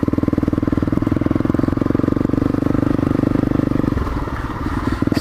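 Honda CRF 250L motorcycle ridden along muddy lanes, its single-cylinder engine chugging in a steady loud throb close by, then easing off near the end with clattering.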